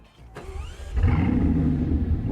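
A Bugatti Chiron Super Sport cranks with a brief starter whine, then its engine catches with a loud burst. It settles into a deep, rumbling idle close by.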